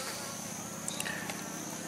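Honey bees swarm a feeder at a nuc hive fitted with a screened bottom board, their low, steady buzzing humming close by and continuously with no other sounds over it.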